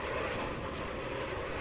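Industrial-scale wind turbines in a desert wind farm, seen from a nearby home: a steady, broad roar with a low rumble that stays even throughout, with no voices.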